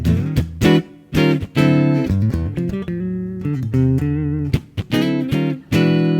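An electric guitar on its neck humbucker pickup plays a warm, round melodic phrase of sustained single notes and short runs, clear and up front with no voices.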